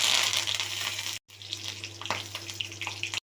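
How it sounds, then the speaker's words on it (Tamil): Curry leaves and green chillies crackle and sizzle in hot oil with mustard seeds, a steady frying hiss broken by a brief cut, then sharper spits and pops close by. "இப்போ கருவேப்பிலை, பச்சை மிளகாய் சேர்த்துக்கலாம்"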